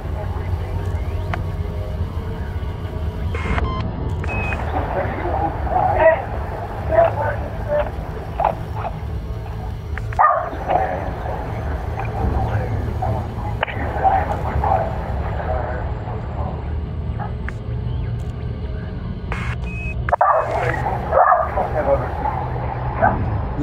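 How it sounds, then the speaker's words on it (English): A dog barks repeatedly in short bursts at moderate distance behind steady talking and a low background hum, the yips recurring throughout. "The dog."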